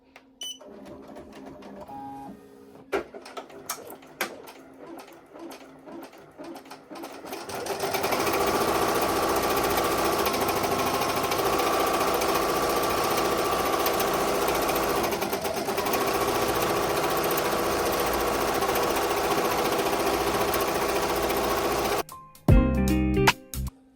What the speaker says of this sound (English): now we are going to go ahead and do the placement stitch, which is the outline.